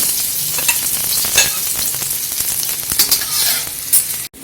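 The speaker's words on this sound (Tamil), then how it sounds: "ஃபர்ஸ்ட் இந்த எண்ணெய் சூடானதும் நம்ம வெங்காயத்தை போட்டுடலாம்." Sliced onions fry in hot oil for egg fried rice, giving a steady, close crackling sizzle with soft stirring scrapes throughout and no talk.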